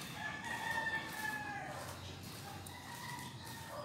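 A rooster crows at a distance in a residential neighborhood of Angeles City, Philippines, one drawn-out call over steady background noise.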